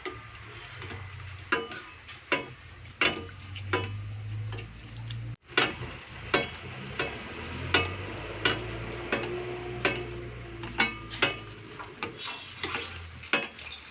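A spoon stirs coconut milk sauce for ginataang sitaw with shrimp in a pan, giving repeated sharp scraping taps at a steady rhythm over a soft simmering sizzle, close and moderately loud.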